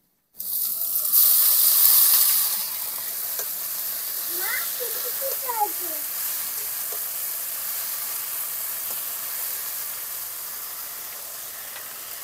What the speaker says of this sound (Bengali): কড়াইতে সরষের তেল দিয়ে দেবো, রসুন কুচি, পেঁয়াজ, কাঁচা লঙ্কা একসঙ্গে আমি ভেজে নেব